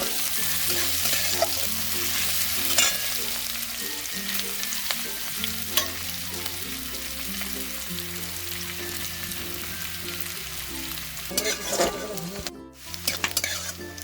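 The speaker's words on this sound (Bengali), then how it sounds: "এখন নাড়িয়ে চাড়িয়ে পেঁয়াজগুলোকে একটু ভাজা ভাজা মতো করে নেব" Chopped onion and green chilies frying in a pan as they are stirred, giving a continuous close sizzle with scraping and clinks of the spatula against the pan, while music plays underneath.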